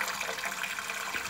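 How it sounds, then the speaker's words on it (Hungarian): Water pouring from a washing machine drain hose, a steady, faint hissing gush without pauses, heard alone and close by in a toilet room. "mosógépből folyik ki a víz"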